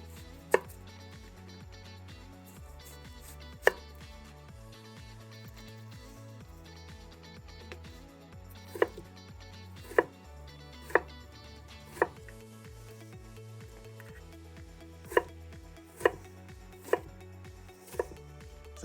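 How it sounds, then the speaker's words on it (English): A knife chopping onion and celery on a board, with scattered sharp individual cuts over soft background music, some strikes coming in quick pairs or short runs. "we're gonna cut up about half an onion or so and a couple of sticks of celery"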